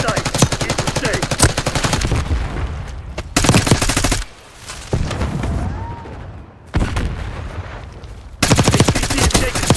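Rapid automatic gunfire from Call of Duty: Black Ops 6 multiplayer on PC, loud close bursts of rifle fire with short pauses between them and a brief radio-style voice line.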